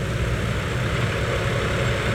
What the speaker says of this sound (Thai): เครื่องยนต์ก็ ทำงานไม่หนักเท่าไหร่นะครับผม